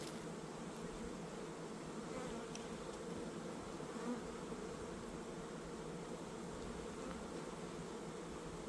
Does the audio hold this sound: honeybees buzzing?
yes